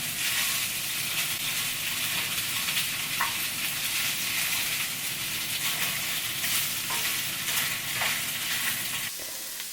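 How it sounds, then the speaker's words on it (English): Tofu sizzles loudly and steadily in a skillet while being mashed and stirred with a wooden spoon, a close, continuous hiss with occasional scraping taps. "just going to add my tofu to the skillet here"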